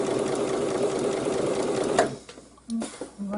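A sewing machine stitches apron fabric in a fast, continuous whir for about two seconds, then stops, followed by a few faint handling sounds and short bursts of quiet speech.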